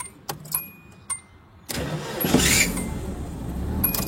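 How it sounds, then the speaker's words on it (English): A car with a replacement aftermarket starter has a few short clicks and brief cranking bursts, then a pause before the engine catches and settles into a loud, steady idle close by. "Let's see if the starter works again though."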